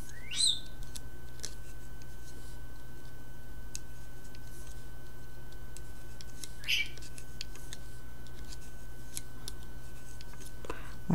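Small birds chirp outdoors in a few brief, high, distant bursts over a steady low background hum, with long quiet gaps between the calls.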